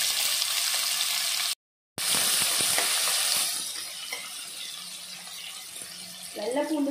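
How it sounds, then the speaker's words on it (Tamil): Chopped large onion hits hot oil with fried chana dal and urad dal for agathi keerai poriyal, a loud close sizzling hiss that cuts out briefly, then fades to a softer, quieter fry. "கடலைப்பருப்பு உளுத்தம்பருப்பு செஞ்சதும் சின்ன சின்னதாக கட் பண்ணி வச்சுருக்கிற பெரிய வெங்காயத்தை சேர்த்திடலாம்."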